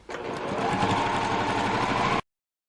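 A sewing machine stitches rows of quilt blocks together in a close, steady mechanical whirr that runs about two seconds and then stops abruptly.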